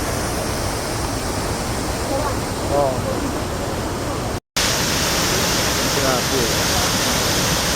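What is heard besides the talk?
Lyngksiar waterfall, water falling from two sides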